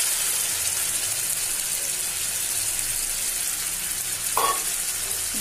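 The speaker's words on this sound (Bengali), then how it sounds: "মাংসগুলো কষে এসেছে, এরপরে আমি এর মধ্যে ঢেলে দিচ্ছি পালং পেস্ট।" Chicken pieces sizzle steadily while frying in a pan for spinach chicken, a dense, even crackle throughout with a brief brighter scrape near the end.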